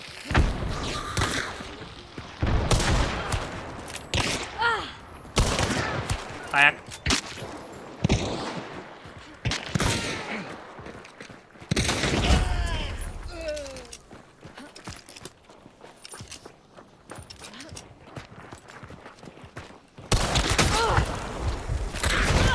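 Gunfire from a Mako 1895 lever-action rifle and other weapons in the shooter game Hunt: Showdown, with sharp, irregular cracks and thuds scattered across a long stretch, some louder bursts near the end, and voices occasionally heard underneath.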